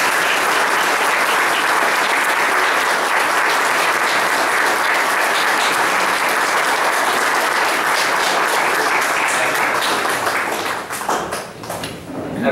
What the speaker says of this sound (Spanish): pido un aplauso para Francisco y los invito a la lectura de su libro.